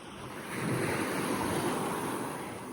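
Surf washing steadily onto a beach shore in Venice, a broad continuous rush of waves with some wind noise on the microphone, close and fairly loud throughout.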